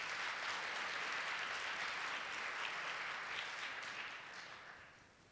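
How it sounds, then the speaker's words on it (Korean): A church congregation applauds in a steady, dense wash of clapping that holds for several seconds, then gradually fades. "그럴 때 박수 한번 쳐주시는 거 좋습니다."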